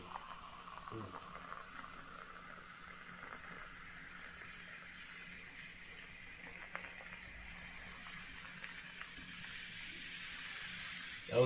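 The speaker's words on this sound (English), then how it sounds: "Just pour it. Look at that cola." Cola poured slowly right up against a microphone gives a steady, close fizzing hiss with a soft bubbling stream that lasts several seconds and builds slightly toward the end.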